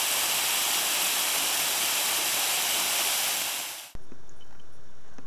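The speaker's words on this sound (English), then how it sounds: "Here we are at the first of the many waterfalls that we'll see today. This one is called the Golden Cascade Waterfall." The Golden Cascade Waterfall gives off a loud, steady, broadband rush of falling water that stays continuous for about four seconds, then cuts off abruptly, leaving faint background sound.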